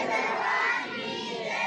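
Devotees at a gathering for a saint in Hoshiarpur shout a religious jaikara chant together, a loud sustained roar of many voices in unison, held steadily for under two seconds.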